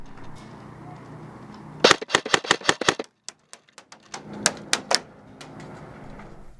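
An airsoft gun fires bursts of rapid, crisp snapping shots during a game, a fast string of about eight followed by scattered single shots and a second quick volley, close and dry over background noise.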